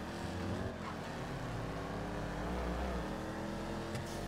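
Car engine droning steadily as it drives in GTA, a continuous close rumble with no clear gear changes, over a noisy wash.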